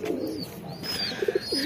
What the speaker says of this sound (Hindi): यहाँ पे अपने दोनों कल्लू कबूतर जो थे वो बैठे हैं अंडे पे